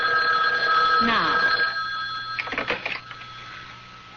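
An old-style telephone bell rings in a radio drama, a steady sustained ring through the first half before fading, followed by handling clatter as someone speaks briefly.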